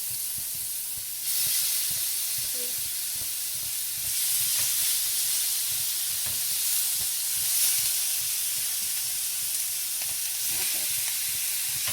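Steady hiss and crackle of chicken pieces frying in a pan, with faint scraping or stirring clicks scattered throughout; no voices.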